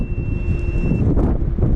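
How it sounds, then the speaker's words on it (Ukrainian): Strong wind buffets and roars across the microphone, a steady low rumbling gust with faint whistling tones, no voices. "Вітер виє."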